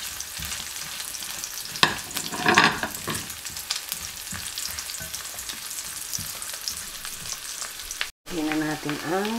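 Garlic sizzles and spatters in hot oil in a pan, a dense frying crackle with a few louder stirring bursts, then a brief cut and a final burst of sizzling.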